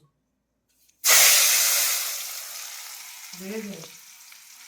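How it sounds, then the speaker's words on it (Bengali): Sudden loud sizzle as garlic hits hot oil in a wok-style kadai, then a steady crackling hiss that slowly fades, with a brief word spoken near the end. "এই যে রসুনটাকে আমি হালকা করে ভেজে নেবো"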